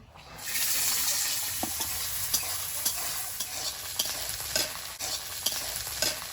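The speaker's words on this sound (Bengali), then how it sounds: "এবার কড়াইশুটিটা ভেজে নেব" Green peas fry in a wok with a bright hiss that swells in after a quiet start, punctuated by regular scraping stirs of the spatula.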